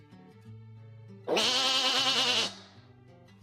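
In the video game Monster Loves You, a goat lets out a single loud, wavering bleat lasting about a second, set against quiet background game music.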